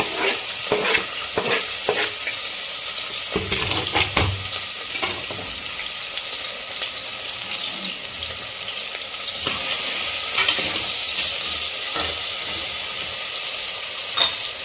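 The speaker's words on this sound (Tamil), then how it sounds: "இப்போது ஆனியன் சேர்த்துக்கலாம். ஆயில் ஹீட் ஆகிடுச்சு." Onion sizzles in heated oil in a pan while a spoon stirs it, producing a steady frying hiss broken by scraping and clinking stirs, close and fairly loud, with no talking.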